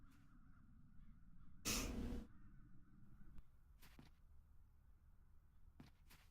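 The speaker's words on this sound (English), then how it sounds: "Now those ghastly crows only need to touch it." Ghastly crows caw in The Dark Eye: Chains of Satinav, one loud harsh call burst early followed by a few fainter, sharp caws later over a low ambient game drone.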